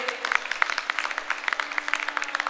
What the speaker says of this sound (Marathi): जोरदार टाळ्या एकदा या दोघांसाठी